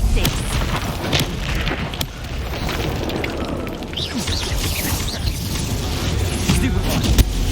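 A Confringo blasting spell detonates in Hogwarts Legacy combat, producing heavy booming bursts inside a dense, continuous wash of battle noise with sharp pops and crackles, loud and close throughout.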